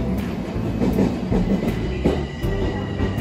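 A train runs on the down line of the Tokaido Main Line toward Shizuoka, close and loud, with regular rhythmic wheel clatter over rail joints and a steady rumble beneath.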